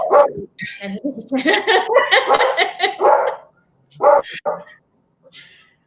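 A pet dog barks and yips in short excited bursts, close and loud, mixed with voices talking over and around it before a few final softer yaps.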